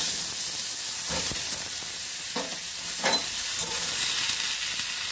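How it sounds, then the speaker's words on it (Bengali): Potato pieces fry in hot mustard oil with nigella seeds in a wok, giving a steady close sizzle with a few soft scraping stirs and no speech. "তেলটা চলে এসছে, আমি আলুগুলো খুব ভালো করে ভেজে নেব।"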